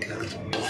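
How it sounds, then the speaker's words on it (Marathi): Palak paneer gravy, spinach with a little added water, being stirred in a pan, a short soft scraping swirl that grows brighter toward the end, close and steady with no one talking. "ते हलवून घ्यायचं चांगलं"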